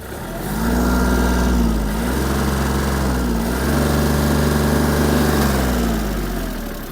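Kubota GL-320 Japanese mini tractor engine running loud and close, idling then revving up twice with rising and falling pitch, a steady mechanical drone throughout with no talking.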